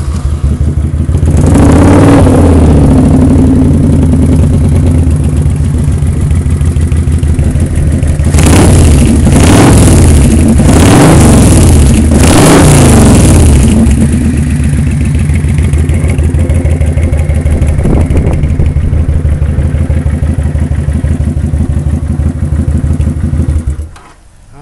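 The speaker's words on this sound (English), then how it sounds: "let's crank it up for you. This bike has a good sound to it." A 2009 Kawasaki Vulcan 900 Custom V-twin with a 240 rear tire kit and aftermarket pipes idles loudly and close with a throaty, steady rumble. Several sharp throttle blips swell the roar midway before it settles back to idle.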